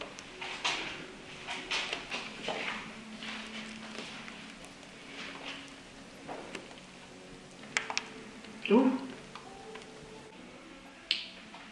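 Paint stripper crackles on the door paint of a Sunbeam Lotus car under restoration, giving sparse, irregular little pops and clicks, quiet and close, over a faint steady hiss with no talking.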